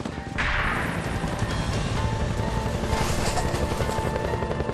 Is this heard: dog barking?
no